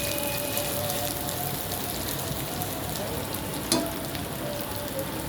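Onions fry in hot oil until reddish-brown for a lentil and Malabar spinach curry, giving a continuous dense sizzle and crackle with a brief stir partway through, close up and steady.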